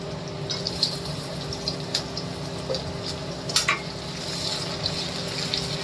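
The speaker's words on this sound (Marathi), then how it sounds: "कांदे चांगले भाजून झाले, मिरच्या मसाला सगळा, टमाटर टाकूया" Tomatoes going into a pan of fried onions and chillies, a steady sizzle with scattered scraping and stirring clicks, close and moderately loud without any voice.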